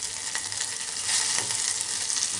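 Ingredients sauté in a pan with a loud, steady frying hiss, broken by a few soft stirring scrapes.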